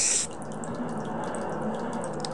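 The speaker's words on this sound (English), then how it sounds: "And all of the water goes into the ceiling." Water drains up into the ceiling in the Morpha boss room of the Zelda Ocarina of Time video game: a short bright splash gives way to a steady, soft trickling and gurgling flow, with no talking.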